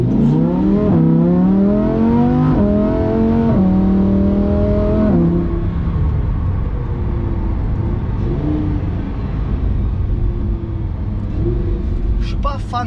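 A Lamborghini Huracán with a 610 hp engine accelerates hard, its loud engine note climbing through several rising sweeps before settling into a steady roar, with someone talking over it.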